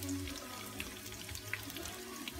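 Panko-breaded haddock fries in hot oil with a dense, close sizzle peppered with small crackles and pops, steady for the whole stretch with no voices.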